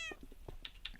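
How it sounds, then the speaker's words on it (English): A cat meows several times in short, separate calls, clear and fairly close, heard alone over a quiet background. "Yes, meow to you too."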